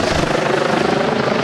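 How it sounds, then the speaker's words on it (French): A military helicopter flies overhead, its steady loud rotor thrum filling the whole brief stretch without pause. "Dans le ciel, pour aider les super gendarmes, un hélicoptère militaire éclaire la zone."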